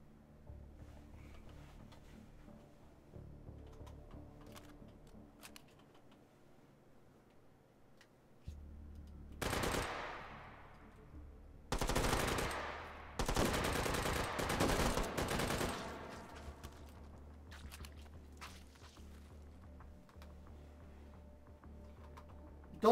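MG42 machine gun in the H3VR shooter fires several loud, rapid bursts near the middle, set apart by short gaps, with quiet clicking and handling noises before and after.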